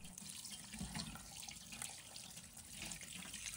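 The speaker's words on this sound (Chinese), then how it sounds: "用流动水将鱼身上的粘液彻底清洗干净" Tap water runs steadily while a sea bass is rinsed under the stream to wash off its slime, a continuous splashing flow into the sink, fairly close and without talk.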